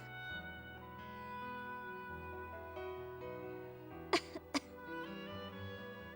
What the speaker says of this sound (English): You've been coughing since you sat down.